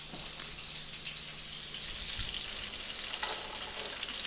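Pine nuts, golden raisins and spinach being stirred in a frying pan, a steady close sizzle with soft scraping under it and no talk.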